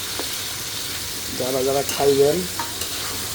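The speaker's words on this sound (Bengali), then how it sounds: "এই দেখেন হাঁসের মাংস কষাচ্ছি।" Duck meat frying and being stirred in a wok: a steady sizzle with scraping stir strokes, partly under a man's nearby speech.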